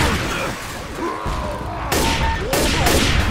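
Gunfire in the zombie shooter Left 4 Dead 2 on the Swamp Fever campaign at expert difficulty: loud, bursting shots and crashing impacts, several sharp volleys close by amid chaotic background noise.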